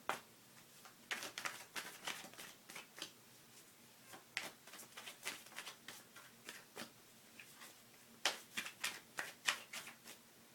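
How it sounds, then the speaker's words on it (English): Cards riffle and snap in quick bursts, separated by short pauses, close and fairly quiet with no talking. "Normally I just put them back in the deck and shuffle"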